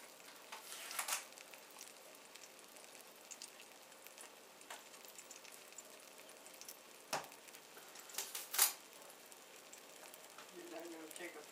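Eggplant slices fry quietly in a pan, a soft steady sizzle with occasional louder crackles and pops, heard faintly and at a distance with no clear talk.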